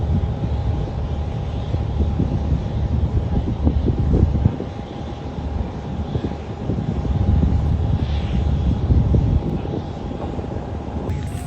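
A new Lao Airlines COMAC C909 airliner at its handover event gives a steady aircraft engine roar with wind buffeting the microphone, holding fairly loud throughout with no talk.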